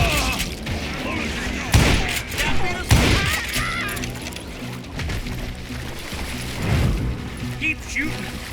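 Gunfire in the Western shooter Call of Juarez Gunslinger: repeated loud shots and booming impacts in irregular bursts, with a voice talking over parts of the action.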